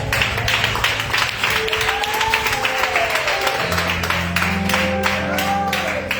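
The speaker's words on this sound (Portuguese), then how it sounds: "Se assenta aplaudindo a Deus." Church congregation applauding God during a Thursday evening service, clapping mixed with music and voices, with sustained tones running underneath.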